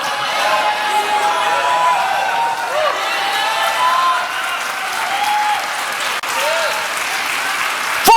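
A church congregation applauds steadily and loudly after an Easter sermon, a dense wash of clapping with scattered cheers and shouts running throughout.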